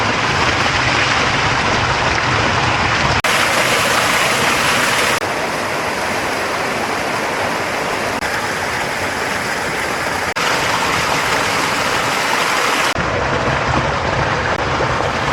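A hot spring waterfall pours into a river, a loud, continuous roar of rushing water close by that shifts slightly in tone as the position changes.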